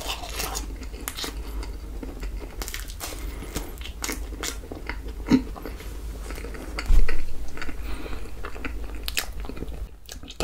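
Toasted marshmallow bitten and chewed up close, soft crunchy bites and wet chewing repeating through the stretch with a louder thump midway, no talking.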